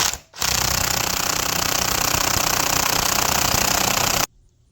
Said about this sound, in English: Chrome socket on an impact?